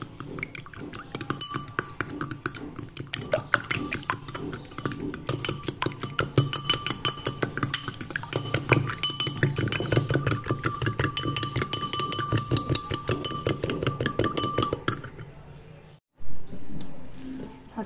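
Beef and moong dal kebab mixture stirred with salt and chili in a bowl, giving a steady, rapid run of light clinks and taps for about fifteen seconds before stopping abruptly, close and moderately loud.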